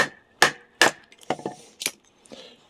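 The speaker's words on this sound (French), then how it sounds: "je vais taper avec mon maillet sur la lame pour la forcer à rentrer dans les fibres" Wooden mallet striking the spine of a knife blade to drive it down through a piece of wood and split it, a few sharp, close knocks followed by softer cracking and splintering of the fibres.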